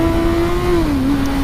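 A 2019 Honda CB1000R motorcycle engine pulls hard in first gear, a steady loud droning note that holds level then dips slightly as revs shift, close and continuous with no talk.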